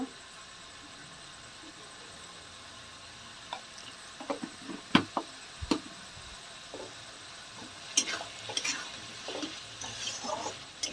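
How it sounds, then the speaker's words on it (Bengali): Meat frying in a pan as turmeric is stirred in, with scattered scrapes and clinks of the spoon against the pan over a low, steady sizzle. "আবার নাড়ব, হলুদটা মিশিয়ে নেব"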